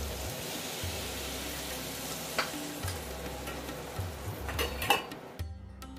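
Chicken tikka pieces with leftover marinade masala sizzle in a pan over medium-low flame, a soft steady frying hiss with occasional utensil taps and a sharper clatter near the end.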